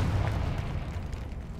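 A Confringo spell blast in Hogwarts Legacy destroys an object, a short, low, rumbling burst that fades out quietly.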